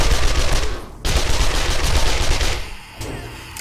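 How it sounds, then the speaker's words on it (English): Rapid bursts of submachine gun fire in the 7 Days to Die game, with a brief pause near one second before the dense automatic shooting resumes, loud and close, then tapering into scattered trailing shots. "just a few more notches on the SMG for me"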